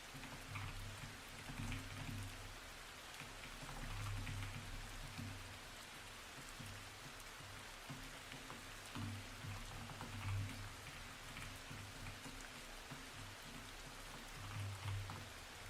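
Light rain falls in a soft, even patter, quiet and continuous, with a faint low hum underneath and no voices.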